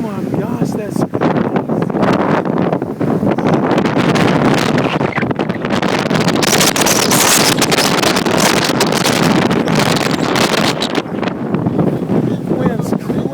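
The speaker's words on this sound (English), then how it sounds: "Wind's crazy." Strong tornado wind during the 2011 Tuscaloosa storm roars as a loud, unbroken buffeting rush across the microphone, with excited voices over it.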